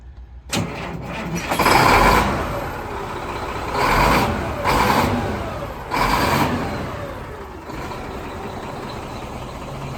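An old Mack truck engine cranks and fires, then runs with a heavy diesel rumble that swells in several revving bursts before settling to a steady loud idle, close by with no talk.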